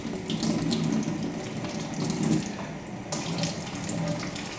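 Tap water runs steadily to rinse out a pipe while racking homemade Ribena wine, a continuous close splashing stream into a sink with slight surges, no voices.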